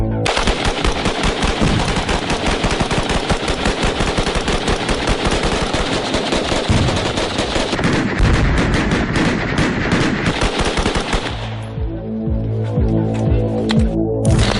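Rapid gunfire in a loud, dense, sustained string of shots close by at a shooting session where a tannerite target topped with a clown wig is blown up, ending in a rumbling, throbbing tail.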